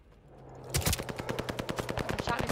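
Rapid automatic gunfire in the Call of Duty: Vanguard video game, a loud sustained burst of evenly spaced shots that starts abruptly and runs to the end.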